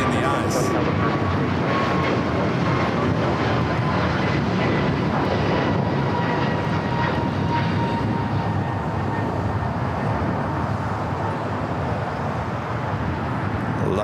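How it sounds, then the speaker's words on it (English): A LATAM Boeing 787-9 Dreamliner taxiing at LAX on its way to Santiago gives a loud, continuous engine roar and whine that stays constant, close and dominant for the whole stretch. "787-9 Dreamliner heading to Santiago, making that left-hand turn on the Bravo"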